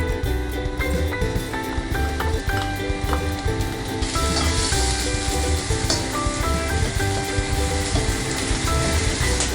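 Garlic and onion hit hot cooking oil in a kawali, a dense, close frying crackle that swells sharply louder partway through and keeps hissing steadily, with steady tones running underneath.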